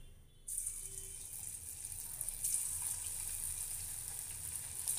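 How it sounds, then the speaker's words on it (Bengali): Chicken pakoras drop into hot white oil and set off a sudden close, loud hiss that stays steady and bright, with a brief swell a couple of seconds later. "এখন আমি চিকেন পাকোড়াগুলি তেলে ভেজে নেব।"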